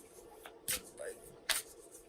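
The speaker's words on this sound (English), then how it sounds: "you may hear me shuffling the Sacred Traveler Oracle cards that I'm working with today" Sacred Traveler Oracle cards are shuffled by hand, giving two or three quick crisp riffling bursts, close and fairly soft against a quiet room.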